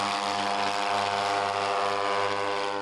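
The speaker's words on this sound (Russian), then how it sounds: "звук от двух двигателей, каждый по 170 лошадиных сил, в полете вполне самолетный." A new-generation airship's two 170 hp engines drone steadily in flight, a loud continuous propeller-aircraft hum with strong harmonic tones, heard alone without talk.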